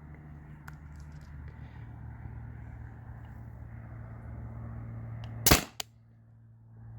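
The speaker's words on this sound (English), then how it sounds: "I'm gonna fire and show you guys the chronograph." A Tippmann TiPX paintball marker fires through a chronograph with two sharp, close shots in quick succession, standing out above a low, steady background hum.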